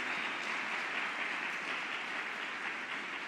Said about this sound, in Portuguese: Se você crê, aplaude mais uma vez o nome de Jesus.